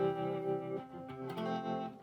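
Electric guitar played through a Digitech TR-7 stereo modulation pedal with light overdrive, sustained chords with shimmering chorus-like warble, changing chord partway through, close and alone.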